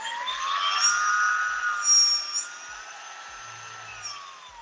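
RC 105mm ducted fan spinning at high RPM on a balancing setup, a loud steady high-pitched whine with layered harmonics that drift slightly in pitch, close and continuous with no talk.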